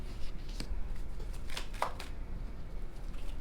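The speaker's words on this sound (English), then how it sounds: "One more shuffle." A deck of tarot cards being shuffled during a love reading, a soft, close riffle of papery flicks over a faint background hiss.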